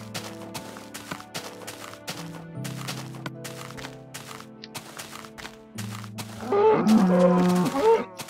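Repeated dull thumps of a Minecraft player hitting a cow strike in a steady rhythm over droning game music, then the cow lows loudly near the end.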